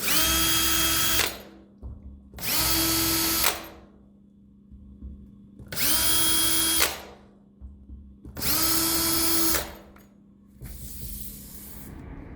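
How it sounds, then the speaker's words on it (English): A power drill whirs in four separate bursts of about a second each, pilot drilling four holes to fit a Dorgard door guard, with short quiet gaps between, then a brief hissing rush at the end. "we can see where the 4 holes are where we need to pilot drill"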